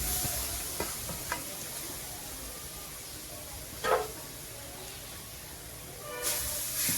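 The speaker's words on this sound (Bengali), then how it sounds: "নারকেল কোরানো দিয়ে প্রথমে হালকা ভেজে নেব।" Grated coconut stirred and lightly fried in a pan gives a continuous soft sizzle, with a few scrapes and one louder clatter near the middle and more scraping toward the end, and no voices.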